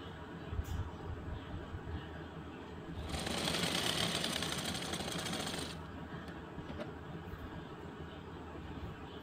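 A sewing machine runs in one close, steady burst of about three seconds while stitching blouse pieces together, with quieter handling sounds before and after.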